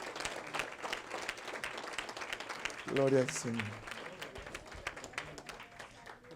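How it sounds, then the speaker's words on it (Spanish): Church congregation applauding for the Lord and for the pastor during a service, steady crowd clapping under someone speaking, with a brief sung or shouted phrase partway through. "Un aplauso para el Señor y un aplauso para el pastor."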